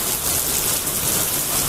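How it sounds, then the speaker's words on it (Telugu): Heavy rain pours steadily in Bhuvanagiri, a dense, loud, continuous hiss of water with no pauses and no voices. "7 నుంచి ఫుల్ వర్షం వస్తుంది"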